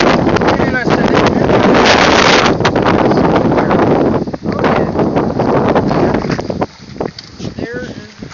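Strong wind buffets a fishing boat out on the water while catfishing in a current, a constant loud rushing roar against the microphone with brief dips, and a voice talks over it.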